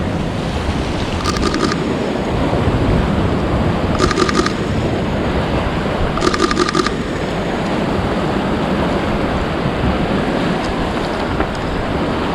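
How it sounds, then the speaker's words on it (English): Strong wind buffets the microphone in a steady roar outdoors at Tharangambadi Fort, with a few faint repeated beeping chirps in the background. "It's getting a little bit windy here."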